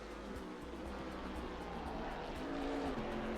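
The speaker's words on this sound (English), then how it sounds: "You can hear Ilpo downshifting, pushing that car to its limits." A GT4 Cup race car engine roars steadily at close range at Oulton Park circuit, its pitch shifting as the driver works down through the gears.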